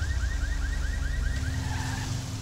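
In the GTA V police mod LSPD First Response, a pulsing car-style alarm whoops in quick regular cycles over a low vehicle rumble, then breaks off and gives way to a softer tone near the end, with no talking.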